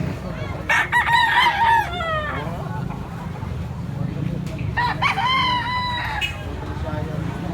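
A bantam rooster crows twice, loud and close, with clucking fowl and a low rumbling murmur in the background.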